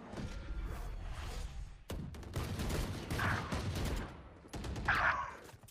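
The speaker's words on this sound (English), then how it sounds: "Couple of shots coming in." Gunfire in the tactical shooter Valorant: several bursts of rapid shots and thumps, some quick volleys and a few sharp single cracks spread across the stretch, fairly close and punchy.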